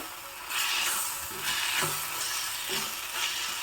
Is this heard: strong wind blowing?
no